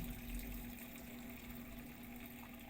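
Steady rush of water filling a washing machine, with a low mechanical hum and a constant tonal drone, continuous throughout.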